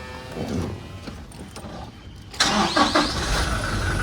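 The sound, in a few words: car engine starting and warming up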